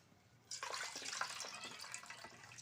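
Moong dal is washed in water, a sudden close burst of splashing and sloshing that starts after a quiet moment and keeps swirling steadily.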